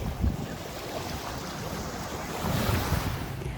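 Ocean waves and wind at Governor's Beach, Grand Turk: a broad hissing wash of surf with steady wind buffeting the microphone, swelling slightly toward the end, with no voices.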